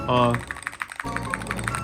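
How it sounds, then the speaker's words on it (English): Rapid clicking keystrokes on a custom computer keyboard with customizable LED lighting, sitting on a wooden desk, typed in quick irregular bursts close by, following a brief voice at the start. "Now this is the keyboard."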